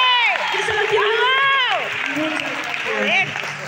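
Audience applause for a singer: a dense, steady wash of clapping with voices shouting and calling out over it throughout.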